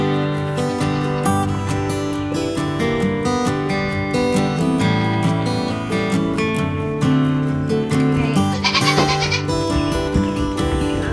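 Baby goats bleat on a homestead with repeated wavering cries, close and loud, over a dense background of other sound.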